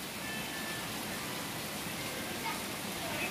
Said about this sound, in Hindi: बाहर तो इतना ज़ोर से बारिश हो रहा है